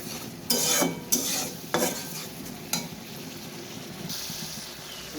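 Spices added to fish frying in a pan and stirred, with several loud scraping strokes of a utensil over a continuous close sizzle that keeps hissing between the strokes.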